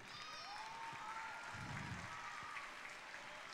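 Audience clapping at a school celebration for Chile's national day, a steady wash of applause under faint background voices and some whistling tones, continuous and moderately loud throughout.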